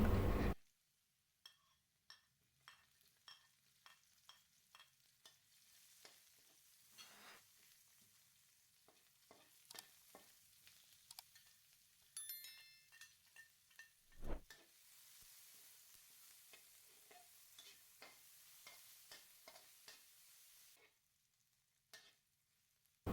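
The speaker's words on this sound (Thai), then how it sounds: "แล้วตั้งน้ำมันอีกครั้งนำกระเทียมสับหอมแดงซอย ขิงหั่นฝอยลงไปผัดให้หอม" Chopped garlic, sliced shallots and shredded ginger stir-fry in hot oil, a steady close sizzle broken by frequent clinks and scrapes of a utensil against the pan, with one louder clatter midway.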